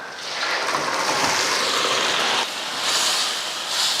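Boiled country chicken poured together with its cooking water into a pan of browned frying onions, giving a loud, steady hissing sizzle that swells and surges for several seconds with no talking.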